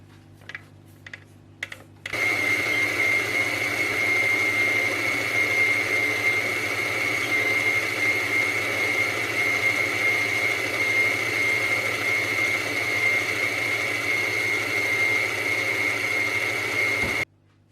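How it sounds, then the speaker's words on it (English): An electric mixer creams softened butter, white sugar and light brown sugar at medium speed, a steady close motor whir with a constant whine that starts abruptly after a few faint knocks and runs unbroken before cutting off. "Cream 113 grams of softened butter, 82 grams of sugar, and 75 grams of light brown sugar at medium speed for about 2 minutes."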